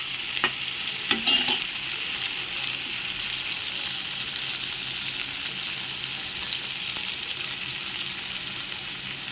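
Potato samosa filling is stirred in a hot pan, with a steady sizzle of frying throughout and a few brief scraping knocks of the spoon early on, close and alone with no talk.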